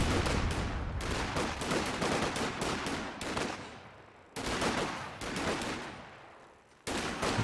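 An MG34 machine gun fires in Company of Heroes 2, sounding as long rattling bursts of rapid automatic shots broken by short pauses, with other battlefield gunfire mixed in at moderate loudness.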